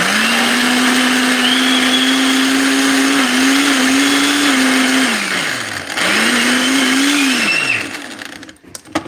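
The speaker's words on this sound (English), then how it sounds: "put the top on top of this blender. Here you're going to want to puree it to like a pudding consistency" Loud, close blender running continuously while pureeing puppy kibble into a pudding-like mush, its motor pitch dipping and recovering twice as the load shifts, then cutting off near the end.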